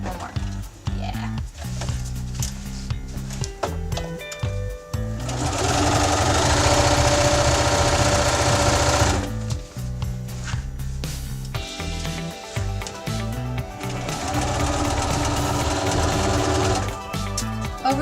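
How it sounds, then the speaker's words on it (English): A sewing machine stitches a pocket in two long, loud bursts of fast rhythmic whirring and clatter, close up, with quieter handling and brief talk around them. "My machine actually has needle up, needle down, so I can keep going and it will stop."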